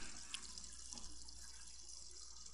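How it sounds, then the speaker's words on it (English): Shower water running in a Roblox Brookhaven roleplay game, a steady continuous hiss of spray like an open tap, close and even throughout with no talking. "I'm turning on the shower."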